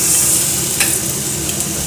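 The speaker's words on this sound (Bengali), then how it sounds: "ডালটা দিয়ে নাড়াচাড়া করে নিচ্ছি" Dal is stirred into sizzling ginger paste and tomato in a pan, a close, loud, steady frying hiss with a few scraping stir sounds.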